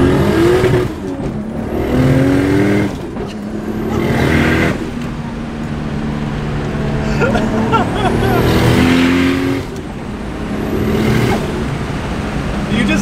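A BMW E30 wagon swapped with a Toyota 1JZ engine drives along, its motor rising and falling through several rev sweeps and gear changes, loud inside the cabin, with a voice talking over it.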